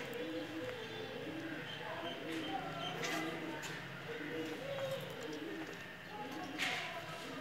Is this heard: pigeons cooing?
yes